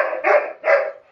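A dog barks twice in quick succession, two loud, close barks about half a second apart with nothing else around them.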